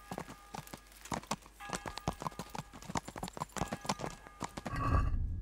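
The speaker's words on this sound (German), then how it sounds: "Da ist mein Pferd." Horse hooves clopping in the medieval video game Kingdom Come: Deliverance, a steady walking rhythm of crisp, close hoof strikes, ending in a short snort or whinny-like breath.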